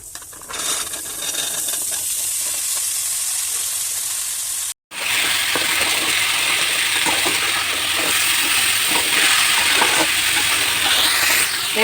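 Pumpkin pieces frying in a pan for a traditional village-style pumpkin fry: a loud, steady sizzle and hiss, briefly cut off midway, then resuming with occasional stirring scrapes.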